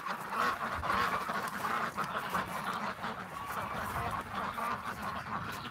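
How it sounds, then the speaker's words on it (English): Ducks in a barn full of them quack and honk faintly in a continuous, overlapping chorus. "Oh, we got a barn full of ducks."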